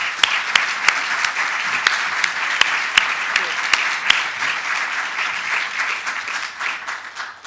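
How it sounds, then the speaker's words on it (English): Audience applause at a 2013 university distinguished lecture, with a dense, steady wash of clapping and a few sharp, louder claps standing out early on, then slowly thinning toward the end. "So how about a round of applause for them?"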